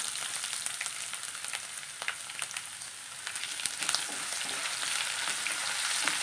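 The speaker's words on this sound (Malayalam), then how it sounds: "കുറച്ച് കടുക് ചേർത്ത് കൊടുക്കാം പച്ചമുളക് ചേർത്ത് കൊടുക്കാം കുറച്ച് കറിവേപ്പില ചേർത്ത് കൊടുക്കാം ഇഞ്ചി ചേർത്ത് കൊടുക്കാം" Mustard seeds, green chillies, curry leaves and ginger fry in oil as the base for a garlic pickle, giving a steady close sizzle dotted with many small crackles and pops that thicken toward the end; nobody speaks.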